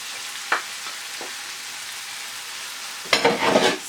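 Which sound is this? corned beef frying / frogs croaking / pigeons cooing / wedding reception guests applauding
corned beef frying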